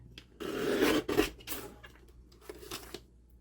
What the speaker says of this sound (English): I'm just going to trim the top of this just enough to line everything up nice and neat.